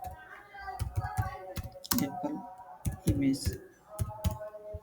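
Keys click in uneven bursts on a computer keyboard as a short text prompt for an AI studio tool is typed, with muffled speech-like sounds and other noises mixed in close by.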